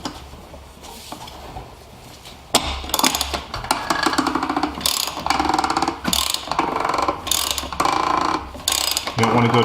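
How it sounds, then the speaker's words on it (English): A ratchet wrench clicks rapidly and steadily, close up, as it tightens the plastic oil filter cap on a Mercedes-Benz C250 (W204) during an oil change. "Then you go ahead and tighten it up with the wrench."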